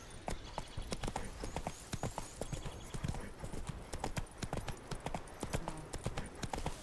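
Horse hooves clip-clop at a quick, continuous pace in a video game, the fairly faint clattering beats going on throughout.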